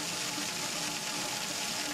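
Water from a fire crew hose pouring into a metal skip, a dense steady gushing hiss with a faint tonal hum underneath, continuous and close with no talking.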